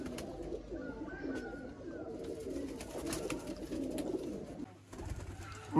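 Sialkoti pigeons cooing softly and repeatedly at close range, low throaty calls rolling on with a few brief pauses.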